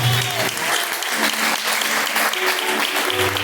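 A church congregation applauds in praise of the Lord during a live service, a dense, steady wash of clapping from many hands that fills the room, with a voice faintly present underneath.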